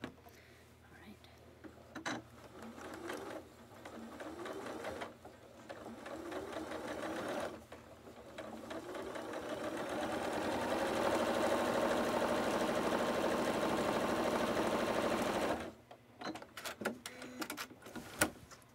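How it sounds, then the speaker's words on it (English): A sewing machine stitches pieces of a quilted coat together in long continuous runs, close and steady, with short pauses between seams and a stretch of sustained fast stitching near the end. "So I am going to start sewing these and put it together."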